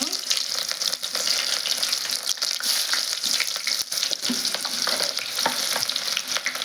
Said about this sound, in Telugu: ఆయిల్ అయితే బాగా హీట్ అయింది. నేను కొన్ని ఉల్లిగడ్డ ముక్కలు వేస్తున్నాను.